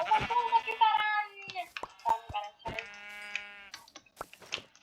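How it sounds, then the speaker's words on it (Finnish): Sheep bleating in the video game Minecraft, several short wavering baa calls in a choppy series, close and clear, with a voice chanting along between them. "Lammasta, lammasta, lammasta, lammasta, lammasta, lammasta, lammasta,"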